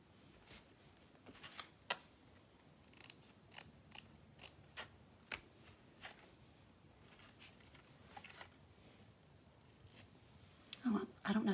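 Scissors snip through paper for a mixed media bird nest paintbrush craft, a series of sharp, separate close cuts at an irregular pace over a quiet room, with a louder rustle of handling at the end.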